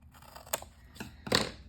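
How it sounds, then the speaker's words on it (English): A few quiet snips of scissors trimming paper for a junk journal folio, close and soft, with short pauses between cuts. "I'm going to go ahead and trim off a little bit more here and a little bit more here"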